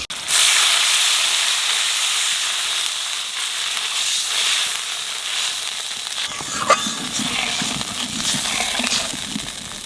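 Water is poured into a hot pan of fried green chillies, setting off a loud, close hiss and sizzle that settles into a steady bubbling simmer, with occasional stirring sounds.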